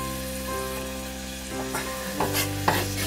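Onions sweat in a pan with a steady close sizzle, then a few stirring knocks and a burst of louder frying near the end.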